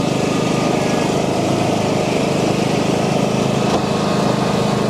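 A Stiga ride-on lawn tractor engine runs steadily and loudly close by, a continuous droning hum with no break and no talk over it.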